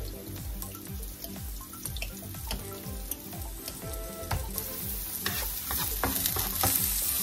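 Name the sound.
onion frying and being stirred in a pan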